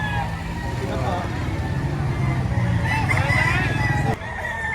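A green-legged rooster crows several times, one call following another, over a bustling outdoor background with people talking nearby at a Philippine rooster market.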